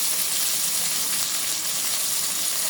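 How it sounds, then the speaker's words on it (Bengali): Chopped onion frying in oil in a pan, a steady, close, bright sizzle that holds evenly throughout, with no talking. "আর একটু তেল দিয়ে দেব পেঁয়াজ কুচা"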